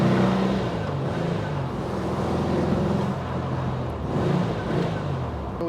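A 1958 Porsche 356A Speedster with Weber carburetors idling as it warms up, a steady low engine drone with slight fluctuations throughout, close and continuous with no talking.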